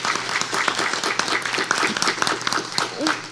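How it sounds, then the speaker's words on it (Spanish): Applause at the final of a legal competition between two teams, dense steady clapping from a seated audience lasting throughout, with faint voices mixed in underneath. "Un aplauso, por favor."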